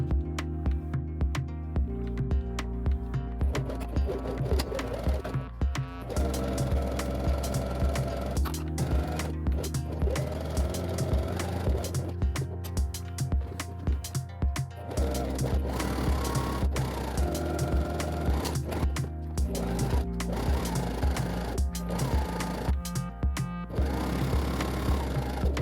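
A sewing machine stitches along the long edges of fabric strips for a sailor knot headband, running in steady whirring bursts broken by short pauses.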